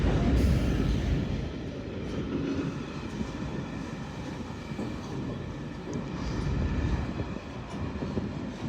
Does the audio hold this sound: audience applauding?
no